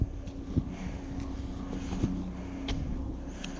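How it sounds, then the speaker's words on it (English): A helicopter flies overhead on a wooded hiking trail in Harriman State Park, heard as a steady, moderately distant rotor and engine drone with no talking. "Or is that a helicopter?"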